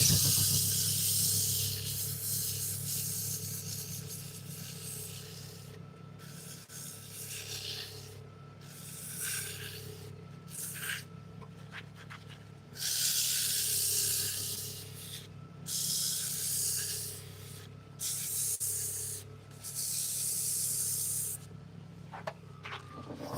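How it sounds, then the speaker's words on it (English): Steady abrasive rubbing and hissing of sandpaper worked inside a turned walnut and butternut bowl, continuing with brief pauses over a low background hum. "needs a little bit more sanding inside"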